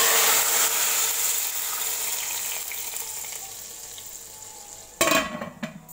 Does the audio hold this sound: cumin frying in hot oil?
yes